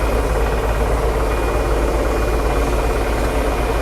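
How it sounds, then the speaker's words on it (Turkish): A wheel loader works nearby at a farm during rainy weather, its steady mid-pitched diesel engine drone running continuously and fairly loud with a constant low rumble and no pauses. "Ha kepçe çalışıyormuş."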